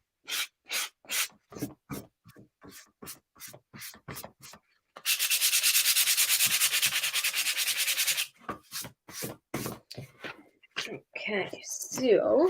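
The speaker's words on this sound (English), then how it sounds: "There's no need to blend if you can get a shabby like faded edges with" Loud, continuous rasp of sandpaper rubbed along painted wooden edges, a sustained burst of sanding lasting a few seconds, framed by a woman's speech before and after.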